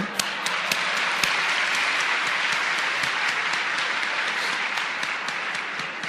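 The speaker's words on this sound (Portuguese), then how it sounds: "eu estou aplaudindo o mentiroso, né, com essa história" Audience applause fills a concert hall during a lecture-performance, dense and steady throughout with a few sharper individual claps standing out, loud and close with no speech.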